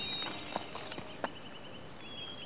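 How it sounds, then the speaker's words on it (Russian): Horse walking on a hard surface, a few sparse hoof clip-clops fairly close over a quiet outdoor background, no talking. "А ну, принимай коня."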